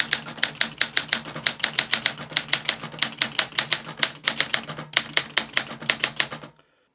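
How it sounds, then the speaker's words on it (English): An Olympia SM9 manual typewriter is typed on at a quick, even pace, with crisp, loud keystrikes close by that stop suddenly at the end. "go to the start of your line to start typing."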